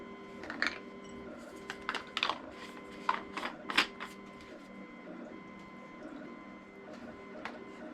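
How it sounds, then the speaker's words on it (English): A 3D printer runs nearby, its stepper motors whirring and chirping in irregular bursts over a steady low hum, fairly quiet, with no voices. "Well, I'm busy 3D printing"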